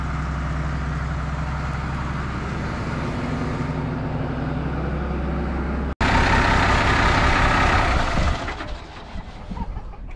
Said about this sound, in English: Good sounding tractor.